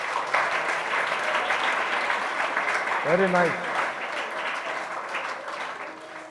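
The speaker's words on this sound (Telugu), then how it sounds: "చప్పట్లు కొట్టండి అందరూ" An audience at a law lecture on Indian jurists claps together, a steady spread of applause running throughout while a speaker's voice briefly sounds over it.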